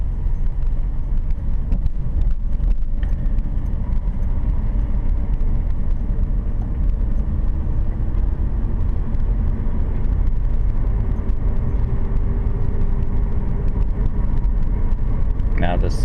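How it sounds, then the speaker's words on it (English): Car cruising along a road at 40 km/h during a driving lesson, a steady loud low engine and road rumble throughout, with a person talking over it. "I'm driving exactly at the posted speed limit, 40 kilometers an hour."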